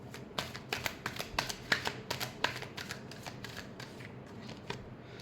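Tarot cards are shuffled in a quick run of crisp riffling flicks, close and fairly quiet, with no voices.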